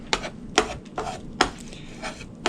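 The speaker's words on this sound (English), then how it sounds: "Cut them up just a little bit smaller chunks." Scrambled eggs being cut into smaller chunks in a pan, a handful of sharp scraping taps against the cookware at an uneven, unhurried pace, close and fairly quiet.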